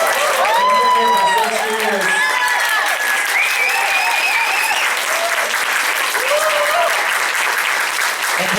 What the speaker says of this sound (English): Can we give Anne Marie a round of applause?